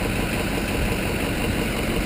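A Ford Super Duty truck engine runs at a steady idle during a check for an exhaust leak, a constant close rumble with no voices.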